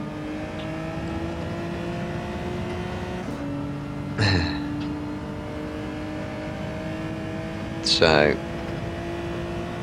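A race car engine in the driving game Gran Turismo 7 holds a steady, tonal hum with two brief sharp surges of revving or passing, while someone talks briefly.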